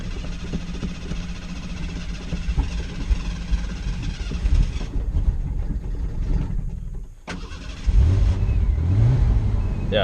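A 1990 Ford Ranger engine idles steadily nearby with a low mid-range rumble, briefly dipping quiet before picking back up with a couple of revs toward the end.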